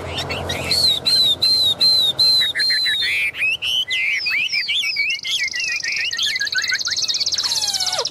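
A caged Chinese hwamei songbird sings close by in a loud, varied run of repeated clear whistles and rapid chirping phrases, with faint background noise throughout.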